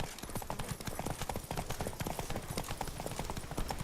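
Roach the horse gallops in The Witcher 3: Blood and Wine, a steady, rapid clip-clop of hooves, fairly loud and close, running continuously with no talk over it.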